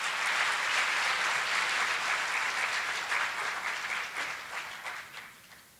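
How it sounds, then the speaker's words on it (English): Audience applause for student performers at a school district awards celebration: a full, even wash of clapping from a large crowd, slowly tapering off near the end. "If you give them another round of applause,"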